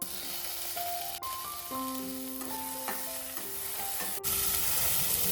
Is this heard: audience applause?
no